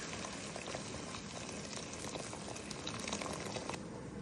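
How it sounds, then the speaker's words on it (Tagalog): Chicken boiling in a pot of water, a steady, dense bubbling and hissing that holds at an even level throughout, close and continuous with no talk. "Pakukulaan ko siya ng 45 minutes."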